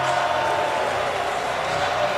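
Stadium crowd at an Ole Miss vs Alabama college football game: a dense, steady roar of many voices with a faint cheering edge, continuous and loud over a couple of seconds.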